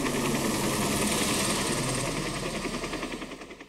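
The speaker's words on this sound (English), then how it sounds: "And also right over here, a new helicopter." Helicopter sound effect from a Yamaha Genos keyboard, a loud rotor chop with rapid rhythmic thudding and engine whine that pulses more distinctly as it fades near the end.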